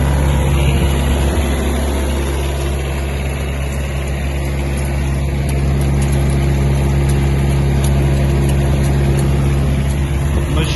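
A Kubota X-20 mini tractor runs with its power take-off engaged at high revs, a loud, steady, close mechanical drone with a constant low hum and whine, no voices heard.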